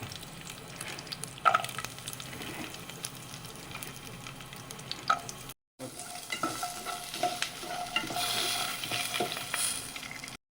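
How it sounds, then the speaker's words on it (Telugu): Cashews frying in a pan for a homemade cake, a soft steady sizzle with scattered stirring clicks and scrapes, quiet and close, broken by a brief gap before the frying resumes slightly louder. "ఇప్పుడు జీడిపప్పు వేస్తున్నాం, అంతా కలిపి వేయించి మిక్సీకి పట్టేస్తాం"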